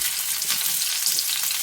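Onion frying in a pan, a steady, close hiss of bright sizzling that holds evenly throughout without any voices.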